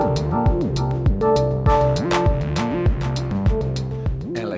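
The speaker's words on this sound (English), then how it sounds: "My favorite instrument of 2022 is the Electron Syntact." An Elektron Syntakt groovebox plays a punchy electronic pattern: a repeating synth bassline with pitch-swooping notes, steady drum hits and bright percussive clicks in a tight, loud rhythmic loop, with no voices.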